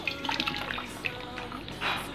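Thick strawberry jam mixture pours and splashes into a wok in a home kitchen, a brief wet glugging and dripping heard at close range.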